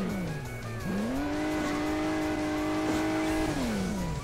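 Video game car engine from Hill Climb Racing 2 drones steadily, dipping then revving up and holding a high pitch before falling, with continuous tire squeal underneath and no talk.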